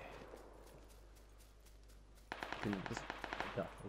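Gunfire in an online shooter game sounds as a few sharp shots early on, then a rapid burst of repeated reports in the second half, with players talking over the action.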